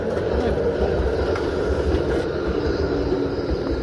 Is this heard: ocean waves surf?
no